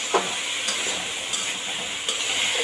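Vegetables with turmeric fry in a pan, giving a steady hissing sizzle with several soft scrape-and-clack strokes of stirring spaced through it.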